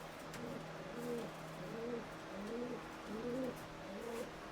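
Andhara and Madrasi pigeons coo repeatedly at a pigeon sale in Katwa, with rolling calls rising and falling in a steady rhythm, close and clear over low background noise.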